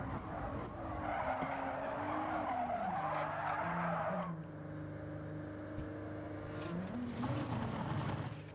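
A race car in Gran Turismo 7 spins and skids into gravel, with a sustained tire squeal and wavering engine drone that fades, then rises again with renewed revving near the end.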